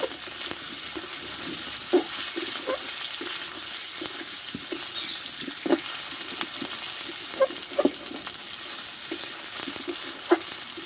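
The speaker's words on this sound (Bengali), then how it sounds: "সবগুলো একসঙ্গে ভালোভাবে কষে নেবো" Boiled potato, peas and coarsely cut ginger sautéing together in a pan for a vegetarian curry, giving a steady, close frying hiss with light stirring knocks scattered throughout and no talk.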